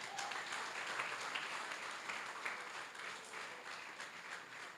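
A church congregation breaks into applause during a sermon, a dense, steady wash of many hands clapping together that holds evenly from start to finish at moderate volume.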